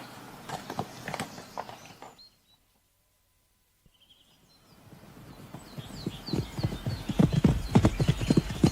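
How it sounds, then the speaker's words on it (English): Hooves of a quiet horse clip-clop at a walk, steady and fairly close, fading out into a brief silence before the plodding steps return louder and busier, with faint birdsong and a whinny-like sound in the background. "Fetch me the quietest horse."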